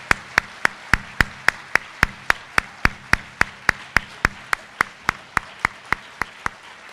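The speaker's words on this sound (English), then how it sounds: "Please join me in giving this group another round of applause." Crisp, evenly spaced claps ring out at a steady beat of about three per second, close and clear, at a school celebration event.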